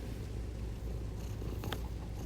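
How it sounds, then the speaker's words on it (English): A cat purring close by, a steady continuous low rumble throughout, with a faint brief chirp near the end and no talking. "You're just purring."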